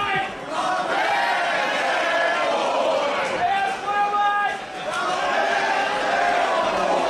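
A pro wrestling crowd in Jersey City, New Jersey shouts back in unison to a wrestler, a mass of voices rising and falling in waves, with a commentator talking over the arena noise.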